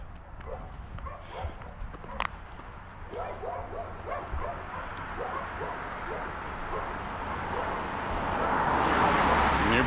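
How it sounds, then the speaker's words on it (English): Neighborhood dogs bark and yip repeatedly in a rapid run of barks during a walk through a residential area in Lewiston, Maine, at moderate distance, under steady outdoor background noise that swells toward the end. "Neighborhood dogs want to kill me."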